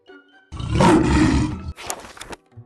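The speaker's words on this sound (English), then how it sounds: "The lion." A lion roars once, close and loud, a single deep sustained call followed by a short rough trailing grunt, with no talking.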